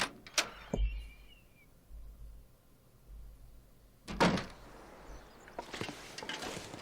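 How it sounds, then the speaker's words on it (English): Door opening in the video game The Long Dark, a few sharp wooden clunks and a creaking thud near the start, then a louder burst of handling and latch noises later, close and otherwise quiet. "Nope, I want the door, please."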